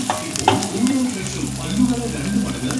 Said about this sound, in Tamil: நல்லா வதக்கி விடணும் நல்லா ஃப்ரை ஆகணுங்க